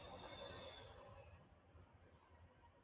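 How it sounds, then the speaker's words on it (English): A passing train rumbles in the distance, faint and continuous, with its wheels giving off a thin, high squeal that fades as the rolling noise carries on. "there's a train going by."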